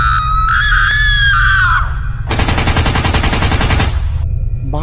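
In a Gulli Bulli cartoon set in Free Fire, a woman screams wildly in a long, loud, wavering shriek, followed by a harsh burst of rapid machine-gun fire and a steady low rumble.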